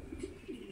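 A racing pigeon, a 2024 bird, coos softly, a few low throaty notes close by in a quiet space.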